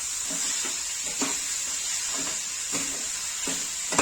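Jaggery filling for ukadiche modak being stirred in a pan, with a steady soft sizzle and repeated spatula scrapes at a regular rhythm, close and fairly quiet, with no talking.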